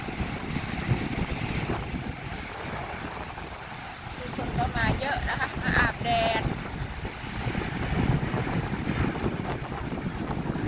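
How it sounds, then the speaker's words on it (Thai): Strong wind roars and buffets the microphone at Torö beach, with a steady rushing surf-like noise. Someone talks over it throughout. "ลมแรงมากค่ะ"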